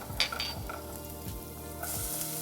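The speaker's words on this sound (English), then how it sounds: "we're gonna start first with some olive oil in our pan. And we're going to add our garlic" Garlic and onions sizzle steadily in olive oil in a pan, a continuous close frying hiss with a few soft stirring scrapes, no talk.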